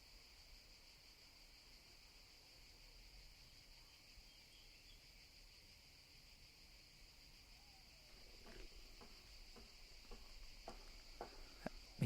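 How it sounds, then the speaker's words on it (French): Cicadas and crickets buzz steadily on an old cassette recording, a faint continuous high drone with sharper ticking pulses and scattered patter in the last few seconds, no voices. "Les cigales, c'est ici, hein."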